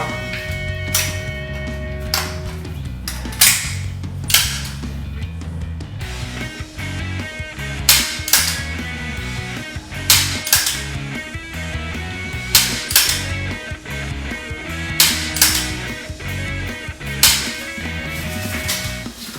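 Dry-fire practice with a pistol, its hammer clicking in a string of sharp, close snaps spaced a couple of seconds apart, with repeated bursts across the stretch over a steady low background hum.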